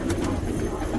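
Pigeons kept by a fancier coo softly and briefly at close range.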